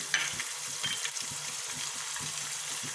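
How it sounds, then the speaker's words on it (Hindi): Meat frying in a pan with tomatoes, green chillies and dry spices such as coriander, turmeric, red chilli, cumin and salt, giving a steady close sizzle with regular stirring scrapes throughout. "अब हम इसको अच्छी तरह से 2 मिनट के भूनेंगे।"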